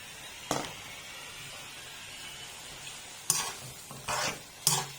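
Coconut curry with bamboo shoots boils while vegetables go into the pot, heard as a quiet steady bubbling broken by a few sharp, close clatters and stirring scrapes.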